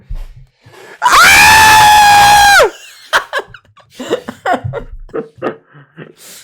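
A man imitates a scream in one long, loud, strained wail, then several people break into laughter and chatter.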